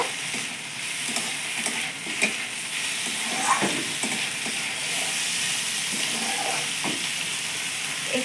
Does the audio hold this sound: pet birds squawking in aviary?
no